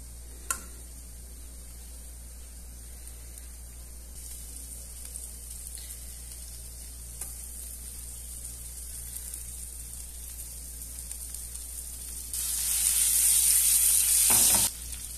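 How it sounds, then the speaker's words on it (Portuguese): A spoonful of butter sizzling in a pan before eggs are fried, a faint steady hiss with occasional small ticks, swelling into a louder, brighter sizzle near the end. "Agora eu vou preparar para fritar os ovos, né? Vou colocar aqui uma colher de manteiga."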